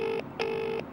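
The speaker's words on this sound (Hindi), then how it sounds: "भाई रिंग तो जा रही है।" A telephone ringback tone during a call, two steady tonal bursts separated by short gaps, clear and close with no talking.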